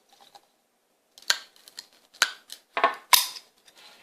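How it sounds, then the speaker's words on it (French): Scissors snip through a cotton swab while a blowpipe is being made, giving several sharp, close clicks and snips spaced irregularly over a few seconds, with no talking. "On va avec le ciseau le couper"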